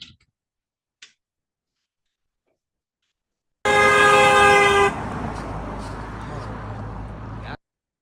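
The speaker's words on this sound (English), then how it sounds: "That was Ms. Shook driving by." A passing car sounds one loud, sustained horn blast of a bit over a second, followed by the close rush of the vehicle driving by for a few seconds before it cuts off.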